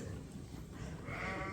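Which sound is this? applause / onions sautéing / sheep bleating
sheep bleating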